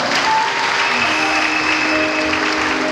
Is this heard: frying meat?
no